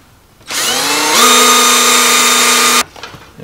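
A power drill with a 1/4 inch bit boring a hole in a homemade planer board, the motor whirring up then settling to a high steady whine for about two seconds before stopping abruptly, close and loud with no speech.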